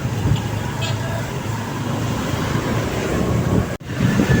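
Steady wind rushing across the microphone with a low rumble, continuous throughout, with a brief dropout near the end, outdoors in light drizzle.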